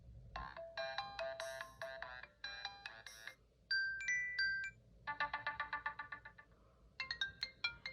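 An iPhone 4 ringtone plays through the phone's own speaker, a bright melodic sequence of chiming tones in short bursts with brief gaps, slightly harsh and quiet overall.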